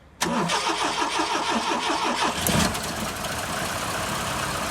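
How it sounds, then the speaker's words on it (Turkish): A restored Ford P100 pickup's engine cranks briefly and catches, then runs at a rough, loud idle with a sharp rev blip before settling into a steady close-up idle. "Ve aracımız çalıştı"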